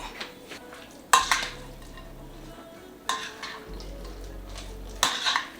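A spoon stirs pickle dip in a bowl, scraping and clinking against the sides in three short bursts over a low steady background.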